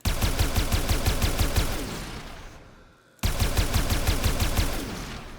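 Stahlta weapon in Warframe firing in rapid automatic bursts, a loud, dense stream of evenly spaced shots that tapers briefly before resuming at full intensity.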